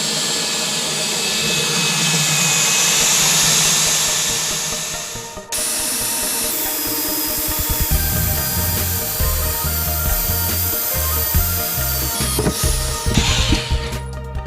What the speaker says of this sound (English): He's gonna drill the hole right through the middle of the barrel.